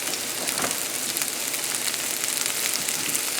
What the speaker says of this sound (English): I'm going to throw in there, gently throwing the peppers and the onions